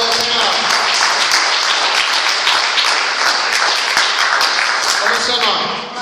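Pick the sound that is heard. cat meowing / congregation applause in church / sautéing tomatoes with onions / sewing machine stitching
congregation applause in church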